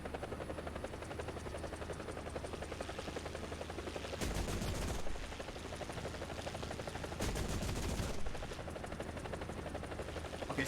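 Turret gunfire from a military helicopter in a video game, heavy 30mm cannon bursts paired with 40mm grenade launcher fire, booming in two loud thick volleys over a steady rotor drone.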